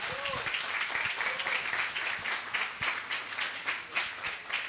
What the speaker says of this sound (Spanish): Por favor, otorgamos un aplauso para el doctor Ramiro.